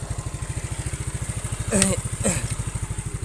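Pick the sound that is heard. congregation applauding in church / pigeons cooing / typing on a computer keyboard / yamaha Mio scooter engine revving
yamaha Mio scooter engine revving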